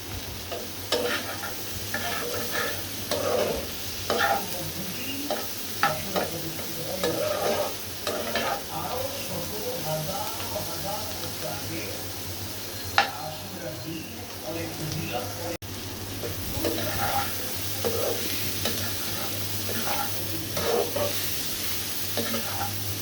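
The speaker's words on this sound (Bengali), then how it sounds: "আমার করলা ভাজিটা প্রায় হয়ে আসছে" Bitter gourd (karela) stir-fries in a pan, with continuous soft sizzling and intermittent scraping stirs of a spatula, fairly quiet and close, with someone talking in Bengali at points.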